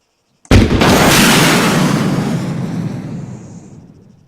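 A missile air-detonates above its target in Arma 3, one sudden loud blast that booms out and then rumbles and decays slowly over several seconds, with nothing else heard.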